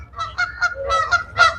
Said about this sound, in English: Yeah, the Canadian geese making a lot of noise.